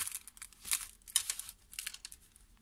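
A sheet of paper crinkles and rustles up close as it is slipped underneath a set of Momenta puffy stickers, giving a few short crackling bursts with no voices.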